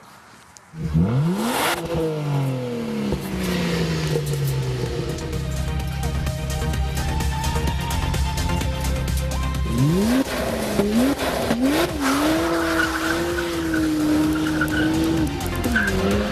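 A 2012 BMW 1M at a driving contest revs hard and accelerates, its engine note sweeping up and down through gear changes while tires squeal and skid. Loud, close and continuous, with no talking.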